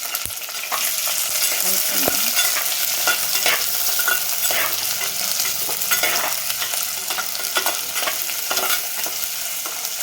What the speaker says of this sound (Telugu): సాంబార్ ఉల్లిపాయలు ఉన్నాయి కదా, అవి వేసుకున్నాము.